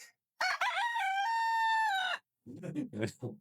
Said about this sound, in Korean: vamos a escuchar el sonido de gallo